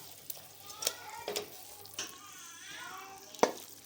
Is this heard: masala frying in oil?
yes